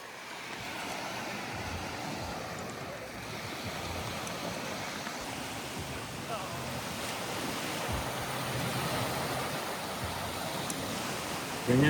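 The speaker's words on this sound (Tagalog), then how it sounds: "Ganda ng alon, payapa." Gentle surf rolls in steadily at St. Pete Beach, Florida, a broad continuous wash of waves with some wind rumble against the microphone, no voices.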